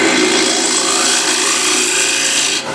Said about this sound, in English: I'm squeezing my hand and dragging the gouge